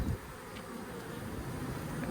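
Honey bees drone in a steady, close buzzing swarm while a five-year-old colony is moved, the hum continuous and moderately loud throughout.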